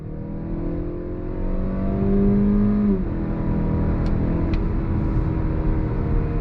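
A 2022 Mazda CX-5 Carbon Edition accelerates under throttle, its engine note climbing steadily and shifting pitch as it gathers speed, heard from inside the cabin as a continuous, fairly loud rising drone.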